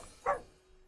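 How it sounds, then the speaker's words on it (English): A single short bark from Lily, a dog, rings out once at moderate volume against a quiet room, with no talk over it. "And Lily is barking because something has made her mad."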